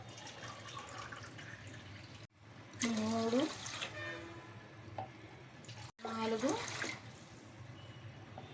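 Water poured from a measuring tin into a pot of soaking rice for ragi mudda, heard as two separate gushing pours, each a few seconds long, with a person talking in between.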